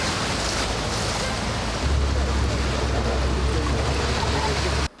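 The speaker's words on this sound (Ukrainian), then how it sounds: "Прибой практически." Rough surf-like waves splashing through a flooded city street, a loud continuous wash with a deeper surge partway through, cut off abruptly at the end.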